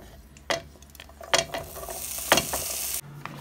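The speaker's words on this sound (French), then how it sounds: "on a les poivrons sautés avec de l'huile d'olive, un peu de vinaigre balsamique, du sel" Peppers sautéing in olive oil in a pan, a steady sizzle with a few sharp scraping stirs of a utensil against the pan.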